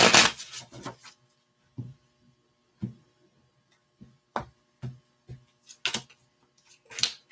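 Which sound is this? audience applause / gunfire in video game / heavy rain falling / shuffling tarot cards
shuffling tarot cards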